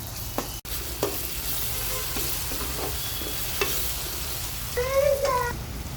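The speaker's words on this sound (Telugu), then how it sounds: "కొద్దిగా అల్లం వెల్లుల్లి పేస్ట్ వేయాలండి. ఇది కూడా పచ్చివాసన పోయే వరకు వేయించాలి." Onions with ginger-garlic paste fry in a pan for an aloo kurma, giving a steady close sizzle with occasional stirring scrapes and clinks and a brief sharper spatter near the end.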